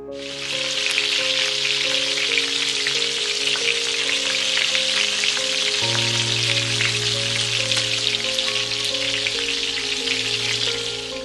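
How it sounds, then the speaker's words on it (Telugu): Nargisi kofta balls deep-fry in hot oil until golden brown, giving a steady, close sizzling crackle that holds throughout under soft background music. "ఇప్పుడు ఈ అన్ని గోల్డెన్ బ్రౌన్ అయ్యేంత వరకు ఫ్రై చేసుకుంటున్నాను"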